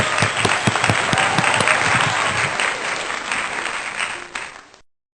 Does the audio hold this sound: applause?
yes